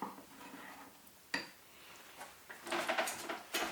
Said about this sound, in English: Stirring it around.